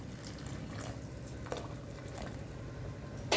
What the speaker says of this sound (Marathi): गरम पाणी करून घेतलेलं आहे मी, ते टाकायला लागले मी आता